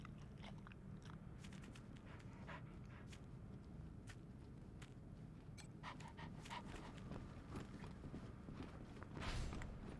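A dog in the Wasteland 3 video game pants and munches in quick, steady rhythmic bursts, fairly faint and continuous, with no talking.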